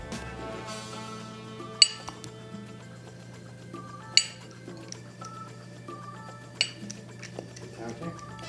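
Sugar scooped with a 1/4 measuring cup into a jar while preparing gluten- and dairy-free buttermilk brownies: a few sharp clinks of the cup against glass at spaced intervals, faint and close, over a low steady hum.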